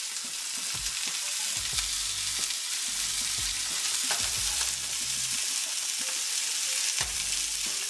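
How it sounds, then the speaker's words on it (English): Chopped large onion sizzles steadily in a hot pan for patty melts, with a constant crackling hiss and occasional clicks and scrapes from stirring, heard alone. "Won't take long for these onions to fry up."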